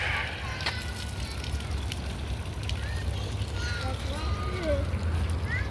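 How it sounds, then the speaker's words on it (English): Wind gusting steadily over an outdoor spot during a bike ride, a constant loud rumble and buffeting close to the microphone that runs throughout, with occasional faint bird chirps in the background. "So the wind blowing too much."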